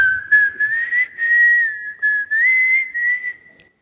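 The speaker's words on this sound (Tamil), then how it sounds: "விசில் அடிக்கிறதா இருந்தால் இந்த மாதிரி அடிக்கணும்." A person whistles a melodic tune solo, clear sustained notes that slide and repeat in short phrases close to the mic, with no talk.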